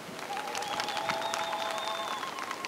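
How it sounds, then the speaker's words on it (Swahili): Clapping from a crowd honouring women's groups at a Women's Day gathering in Monduli, a soft, steady patter heard from a distance, with a sustained tonal hum running beneath it. "Naomba tuwapigie makofi."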